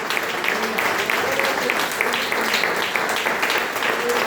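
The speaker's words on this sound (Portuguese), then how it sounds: "Dê uma salva de palmas ao Senhor Jesus." A church congregation applauds steadily for several seconds, a thick, even wash of many hands clapping up close, with faint voices mixed in underneath.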